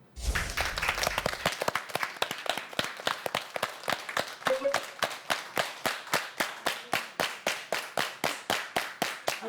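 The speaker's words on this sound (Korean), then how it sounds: "박수가 일단 맞잖아요. 그럼 시간이 지나면 박자가 조금씩 빨라집니다." Lecture audience clapping in unison, starting as scattered applause that quickly locks into a steady shared beat; the sharp, evenly spaced claps grow slightly faster over time.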